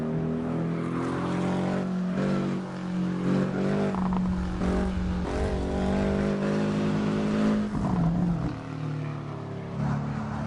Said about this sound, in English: You hear the exhaust. The exhaust is really nice.